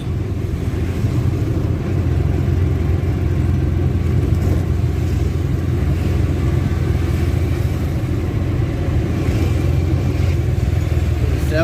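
Traffic on a main road toward Shivajinagar rumbles steadily, with car and motorcycle engines forming a continuous low drone and occasional revs passing near, no speech over it.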